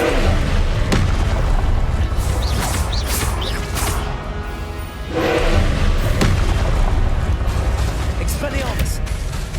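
A Confringo explosion spell in Hogwarts Legacy during a Professor Rackham trial, heard as loud booming blasts and whooshes over dense game noise, with a voice speaking over the action.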